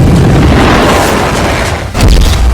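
Heavy rumbling boom of a missile attack explosion on Israel, a loud close roar that dips and then bursts into a deep thump.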